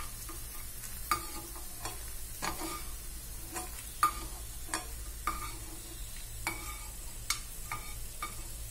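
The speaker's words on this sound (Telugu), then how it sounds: "పల్లీలు వేగిపోయాయి" Peanuts dry-roasting in a pan make a steady low sizzle with irregular stirring clicks and scrapes as the nuts are moved about, close and fairly quiet, with no voices.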